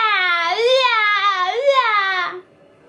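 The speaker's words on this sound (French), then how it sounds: "Il s'approche et entend un bébé." A baby's wailing cry voiced by a storyteller reading a tale aloud, one long rising and falling sobbing wail up close that stops abruptly.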